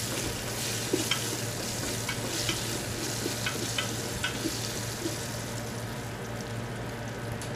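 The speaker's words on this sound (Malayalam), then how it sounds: "ഇനി അതിലേക്ക് കട്ട് ചെയ്ത് വെച്ചിരിക്കുന്ന പൊട്ടാറ്റോ ഇട്ട് കൊടുക്കാം. നന്നായി ഒന്ന് മിക്സ് ചെയ്യാം." Cut potatoes for jeera aloo sizzle loudly in hot oil, a dense continuous frying hiss with faint rhythmic scrapes and taps of stirring throughout.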